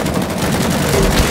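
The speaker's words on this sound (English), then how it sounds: "I have a fucking belt fed machine gun." Belt-fed machine gun firing in the Vietnam-era shooter Rising Storm 2, a dense, continuous burst of loud gunfire filling the whole short moment without let-up.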